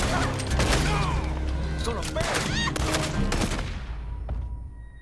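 Gunfire in Red Dead Redemption 2 Online: rapid overlapping shots and ricocheting cracks in a busy firefight, loud and close, with voices mixed in.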